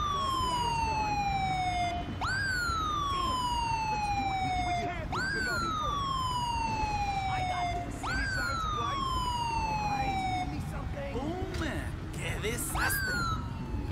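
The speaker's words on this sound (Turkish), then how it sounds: "Ambulans geldi." An ambulance siren inside the video game GTA 5 wails in repeated rising-and-falling cycles, steady and prominent over a background of game noise.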